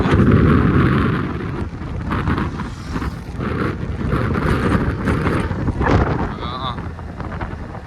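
Riding a Honda Activa scooter, heavy wind buffeting roars across the microphone continuously, masking a low engine drone throughout the ride.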